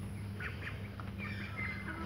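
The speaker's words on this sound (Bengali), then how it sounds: "এটা হচ্ছে চীনা হাঁস।" Several Chinese ducks on a small home farm quack in short nasal bursts, a few calls scattered over a low steady background hum, with no talking.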